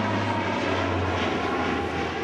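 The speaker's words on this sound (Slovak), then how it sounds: "A práve teraz nám predvádza lietadlo Spartan svoj povestný výkrut." A Spartan aircraft with twin turboshaft engines performs a roll at an air show in Piešťany, its steady, loud propeller-engine drone sustained and close throughout, with no talk.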